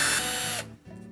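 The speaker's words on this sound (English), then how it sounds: "Next we'll remove two screws that secure the top to the cabinet." Power driver backing out a screw that secures the top of a Whirlpool washer to its cabinet, a loud close whir that cuts off abruptly, followed by a faint low hum.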